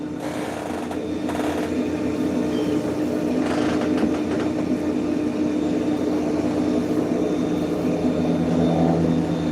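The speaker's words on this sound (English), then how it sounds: "Oh, it's an airplane" A distant airplane passes overhead as a broad, steady roar that stays constant for about ten seconds, heard indoors with faint knocks and no speech.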